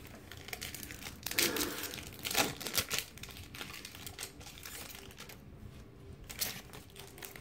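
Wrapped Opening Day baseball card pack being torn open, close crinkling and tearing foil bursts in irregular clusters, fairly quiet with no talk.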